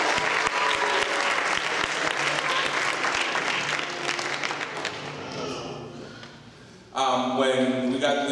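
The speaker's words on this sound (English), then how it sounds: "please let's give her a round of applause" Audience applause at a church gathering, dense clapping from a crowd that fades out, then sharply resumes loud near the end.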